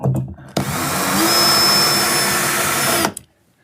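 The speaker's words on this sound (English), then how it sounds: "Drive all the screws in all the way across" A power driver whirs steadily for about two and a half seconds, driving a screw into ceiling timber to fix a slimline curtain track, starting and stopping abruptly, close and loud.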